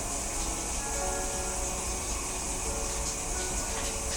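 Shower running in a nearby bathroom, a steady broadband hiss of spraying water that stays constant and fairly faint throughout, with no talking.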